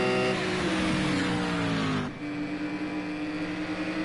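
Race cars on the Le Mans circuit in Project Cars 2, including GTE-class Mercedes and Porsche machines, a loud engine drone that sweeps past and drops in pitch, followed by another car's steady humming engine.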